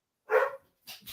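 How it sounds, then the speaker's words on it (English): Pet dogs at a house bark in the background as someone arrives at the door: one clear bark, then a fainter second sound a moment later. "I don't know if you heard my dogs there in the background."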